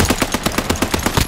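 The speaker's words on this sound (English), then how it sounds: "Shots over here." Rapid automatic gunfire in Call of Duty: Modern Warfare, a steady burst of evenly spaced loud shots about ten per second, close and continuous with no talking.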